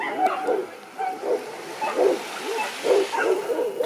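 Dogs on a Caribbean-style beach at a wedding party, giving repeated yips and excited whimpering barks in short bursts, with voices talking around them.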